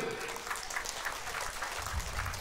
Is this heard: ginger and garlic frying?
no